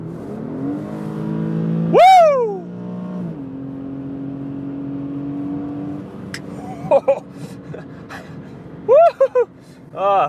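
Infiniti G37x all-wheel-drive sedan pulling hard: the engine note sweeps up quickly, then holds a steady droning tone, followed by a few short bursts of noise near the end.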